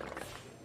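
A horse whinnies in the fantasy strategy game Might & Magic Clash of Heroes, a single short, faint neigh heard alone.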